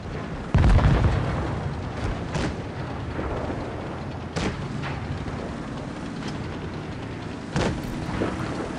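T29 tank cannon shots and explosions in a tank video game: several loud, heavy booms land at intervals over a constant rumbling battle background.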